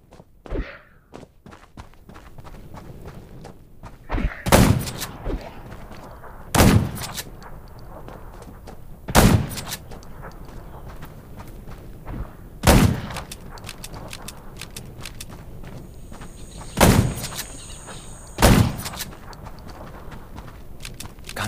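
Six sharp video-game gunshots from Undawn ring out one at a time, spaced a few seconds apart, each a loud broadband crack over a low, steady background hum.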